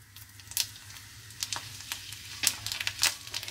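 Cumin seeds crackle in hot oil on full flame alongside dried red chili, with sharp close pops and crisp spattering bursts over a quiet sizzle.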